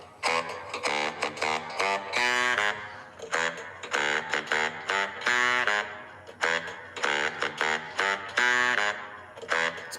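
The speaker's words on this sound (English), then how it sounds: "It's a baritone sax." Baritone saxophone plays in a song: loud, buzzy honking notes in short repeated bursts and sustained blasts, a driving riff that fills ten seconds.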